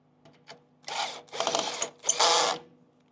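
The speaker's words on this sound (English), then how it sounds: "I have the drill set on low torque just so I don't strip anything." A cordless power drill set to low torque drives a screw into a part on a Rattan Sequoia e-bike, giving three short whirring bursts with brief pauses between them, preceded by faint clicks, close and fairly loud.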